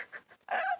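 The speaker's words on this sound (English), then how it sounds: "I think these are going to be great chickens." Chickens cluck in a few quick, close bursts, the last one louder and longer, with no talking.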